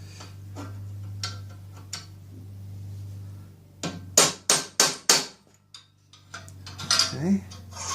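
Several sharp metallic hammer strikes on a transfer punch, marking hole positions for a Vega fence on an old Delta table saw in a workshop; a quick cluster of four or five loud, close taps, then a few lighter knocks, over a steady low hum.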